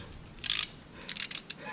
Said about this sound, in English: take off this 24mm bolt right there and drain the transmission fluid